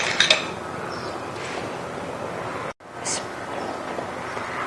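Flour and baking powder stirred together in a bowl, with a few light clinks of a utensil against the dish at the start followed by soft, steady scraping and rustling.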